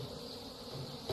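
Many bees buzzing around honeycomb in a hive, a dense steady drone close by, alone without voices.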